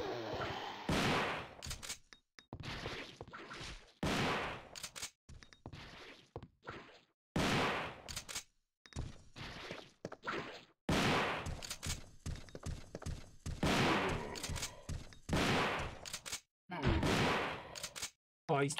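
Shotgun blasts in a stream of BIOYC's The Prophecy, a run of loud, separate booming reports with short gaps, some fired in quick pairs, standing alone with no talk over them.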